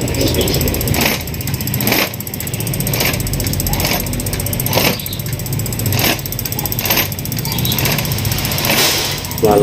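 A diesel injector from a 6M60 engine is bench tested with an injector nozzle tip, giving loud mechanical clatter and roughly regular sharp bursts of spray about once a second over a harsh, continuous hiss.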